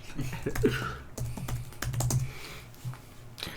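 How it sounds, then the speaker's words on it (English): Loud, close typing on a computer keyboard, with quick irregular bursts of sharp key clicks and heavier thumps of keys bottoming out, heard alone. "That was really loud typing."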